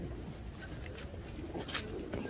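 Pigeons in a pigeon-flying setting in Lahore give soft, low coos close by, a few short murmuring calls over a steady background hiss with faint chirps.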